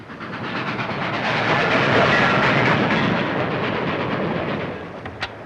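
A 1930s train rolls steadily along the rails with a dense, continuous rumble and clatter that swells in the middle and eases off near the end, with no voices over it.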